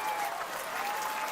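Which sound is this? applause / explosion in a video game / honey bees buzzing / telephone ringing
applause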